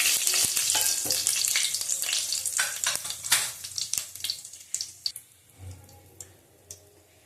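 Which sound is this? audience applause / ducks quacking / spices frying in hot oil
spices frying in hot oil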